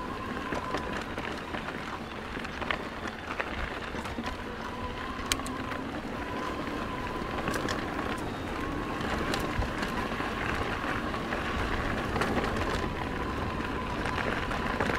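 A 2023 Pivot Shuttle SL e-bike rolling over a smooth trail, mostly broadband wind and tyre rush with a faint steady motor whine underneath and occasional light knocks, no talking.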